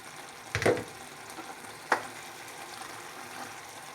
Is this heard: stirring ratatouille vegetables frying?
yes